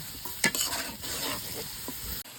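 Chicken meat seasoned with salt, chili and turmeric powder sizzles in oil in a pan, a continuous close hiss with a sharp spatula clink early on and a few soft scraping stirs.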